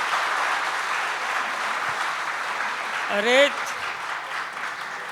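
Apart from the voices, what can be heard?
audience applause at a seminar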